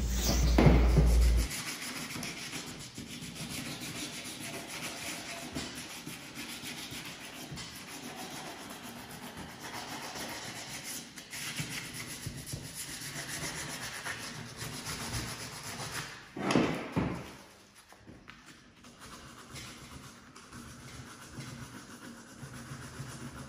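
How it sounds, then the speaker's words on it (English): Steady hand sanding of a rusty metal wiper arm with 180 grit sandpaper, a continuous scratchy rubbing that runs nearly the whole time with a brief louder scrape near the end, no speech. "let's get some 180 grit sandpaper and sand down all the areas where it's rusty or pitted"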